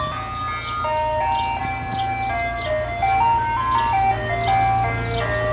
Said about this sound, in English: here comes an ice cream truck, part 2. Listen to its sound.